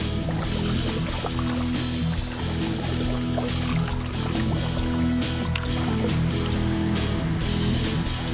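Canoes paddle along the Czarna Hańcza river on a multi-day rally, with water steadily sloshing and splashing under a continuous broad wash of outdoor river noise, no voices.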